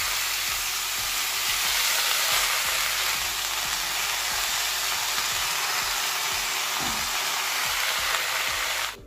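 Red amaranth greens dropped onto onions already fried in a hot pan, giving a loud, steady, close sizzle that runs unbroken for several seconds, with faint stirring knocks underneath and no talk.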